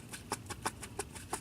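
A 1996 Jeep ZJ front wheel hub spins on a worn, wobbling bearing, giving a faint, evenly spaced ticking or knocking that repeats several times a second.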